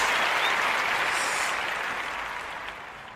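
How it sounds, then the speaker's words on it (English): Applause from a crowd, a broad steady wash of clapping that fills the whole stretch and fades slightly toward the end, with no voices over it. "Yay, yay, applaud me"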